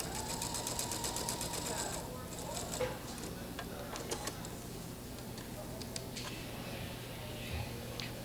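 A sewing machine stitches the final seam of a pieced quilt, its needle running in quick rhythmic bursts with brief pauses, close and fairly quiet, while someone talks over it.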